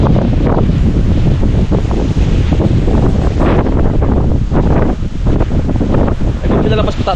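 Strong wind and rain lash outdoors, roaring as a loud continuous wash of gusts and rain with microphone buffeting throughout, with no clear breaks.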